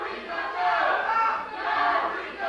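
A wrestling crowd cheers and roars in two swelling waves, loud and sustained, filling an arena without any individual voice standing out.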